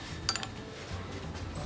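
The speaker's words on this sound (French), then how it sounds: "Je vais mettre un coup de pointeau." A single sharp metallic tap from a center punch struck against metal on a homemade mini metal lathe project, brief and fairly quiet against a faint room hum.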